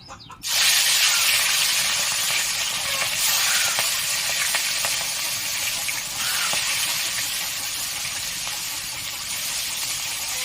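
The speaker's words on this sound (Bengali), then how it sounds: "আমি এবার মাছগুলো দিয়ে দিলাম।" Pieces of katla fish dropped into well-heated oil, a loud close sizzle bursting in after a brief quiet moment and hissing on steadily without letup.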